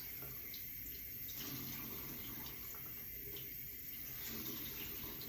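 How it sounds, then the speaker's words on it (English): Tap water runs steadily over a makeup sponge in a sink, a continuous close splashing rush that stays even throughout. "Run it underneath some water as well."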